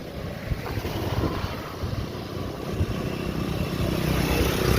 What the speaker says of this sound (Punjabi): ਵੇਖ ਪਾਣੀ ਦੇ ਪੈਂਦੇ ਸਲਾਟੇ ਆਵਾਜ਼ ਸੁਣਦੀ ਐ